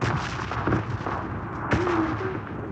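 Gunfire in the mobile battle-royale game PUBG Mobile Lite: a dense stream of loud, rapid shots fills the whole stretch, with one sharper crack near the end over steady game noise.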